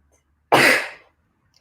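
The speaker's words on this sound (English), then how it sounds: "Sorry, I'm about to" A single sharp sneeze bursts out loud and close, fading over about half a second, followed by a moment of quiet and the start of a voice.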